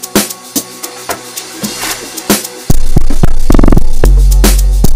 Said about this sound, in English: And then I have my third FX called the long mixer reverse